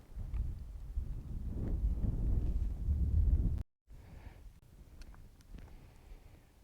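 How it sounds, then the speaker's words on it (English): Heavy wind buffeting a microphone outdoors at Sunset Crater, a loud low rumbling roar that cuts out abruptly for a moment, then returns as a gustier, lighter rush. "I don't know how much you can tell from the microphone how windy it is"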